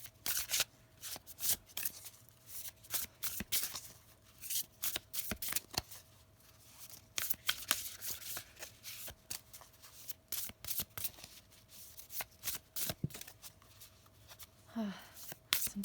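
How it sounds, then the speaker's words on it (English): Tarot and oracle cards are shuffled over and over close by, a rapid series of crisp riffling and flicking bursts with short pauses between handfuls, a brief murmur of voice near the end. "Sometimes cards, they're so hard to shuffle."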